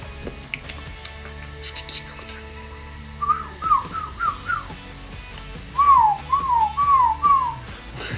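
A homemade whistled imitation of a small bug, made by a human voice: two bursts of short, rising-and-falling chirpy whistles, four or five quick notes each, close and clear over a faint background hum.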